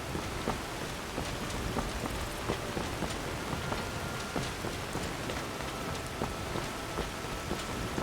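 Steady rain in Skyrim patters on a surface, with scattered distinct droplets ticking throughout; no voices, just a constant wet hiss.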